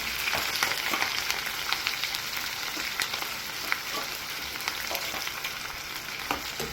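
Onions fry in a pan with a steady, dense crackling sizzle and scattered sharp pops, close and continuous with no voices.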